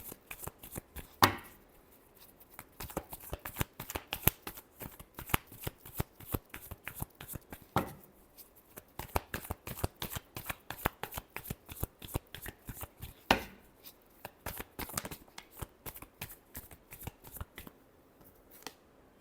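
Tarot cards are shuffled by hand in quick, crisp riffling flicks, repeated rapidly and close to the mic, continuing steadily over many seconds with brief pauses and no talking.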